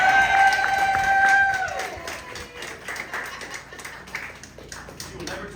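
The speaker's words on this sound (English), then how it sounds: "Let's give her a big hand clap," Scattered clapping from an audience at a nursing home with some crowd noise, starting livelier and thinning into lighter, uneven claps.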